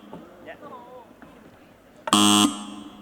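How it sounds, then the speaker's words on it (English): A quiz team's buzzer being tested at a closing ceremony gives one loud, steady electronic buzz lasting about a third of a second, following quiet room murmur and faint talk. "So starting from team CEOs, please hit the buzzer."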